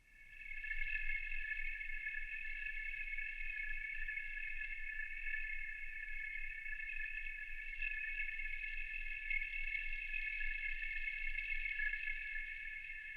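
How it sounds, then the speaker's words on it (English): A sustained high-pitched atmospheric noise layer from a sample loaded into the Serum 2 synth for a pad, holding steady and moderately loud for the whole stretch with no voice over it. "you can hear we get this nice higher frequency kind of extra layer of atmosphere added on top"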